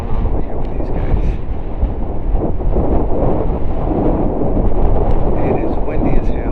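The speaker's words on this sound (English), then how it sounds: "It is windy as hell." Strong desert wind buffets the microphone at an aircraft boneyard, a loud, constant low rumble of gusts filling the whole stretch without letup.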